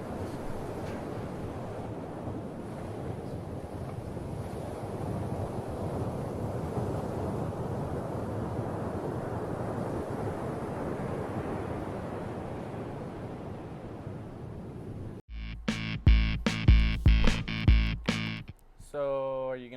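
Ocean waves and surf make a steady broadband rush and swell for about fifteen seconds before music cuts in.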